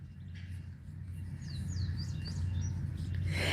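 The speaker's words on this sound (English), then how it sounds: "Can you hear the birds?" Birds whistle and chirp in short bursts outdoors at night in Tennessee, faint and somewhat distant over a steady low hum of background noise.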